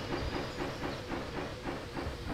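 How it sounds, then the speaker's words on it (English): Steam train pulling into the station in the farming game Hay Day, with a steady hiss of steam and a rhythmic clickety-clack of wheels repeating throughout, moderately loud and with no voices. "I'm going to have to wait for the train to come in and do its thing"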